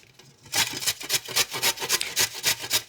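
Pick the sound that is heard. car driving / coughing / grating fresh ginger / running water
grating fresh ginger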